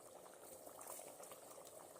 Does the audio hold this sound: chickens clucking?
no